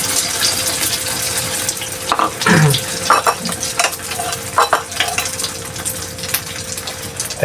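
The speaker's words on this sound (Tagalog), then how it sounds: "Tapos yung itlog piprituhin ko" Egg frying in a pan alongside sautéed cabbage, a continuous crackling sizzle broken by scraping stirs and clinks of the utensil, close and fairly loud with no talking.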